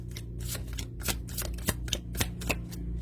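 Tarot cards from a Voice & Vision deck being shuffled by hand, a steady run of soft papery riffling bursts repeating about every third of a second, close and moderately quiet with no speech.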